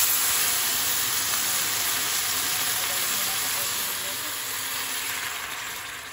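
Water pours into a hot cooking pan while making ginataang yellowfin tuna with pechay, a steady, loud hissing sizzle that fades slightly toward the end.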